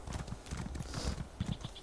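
Horse hooves clip-clopping at a quick, steady trot in The Elder Scrolls Online video game, close and fairly soft over a faint ambient background, with no talking.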